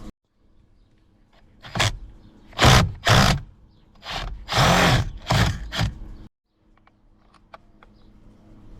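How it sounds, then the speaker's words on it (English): An impact drill with a T50 socket fires in several short, loud bursts of rapid hammering, removing a steering wheel bolt on a 2024 Ford Mustang, separated by brief pauses in an otherwise quiet space. "I will be using the impact drill with a T50 socket right there."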